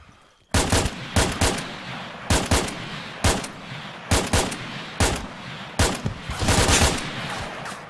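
Gunfire in the video game Arma 3 Breaking Point, loud bursts of shots cracking out in short rapid clusters, repeated every second or so at close range, with no talking.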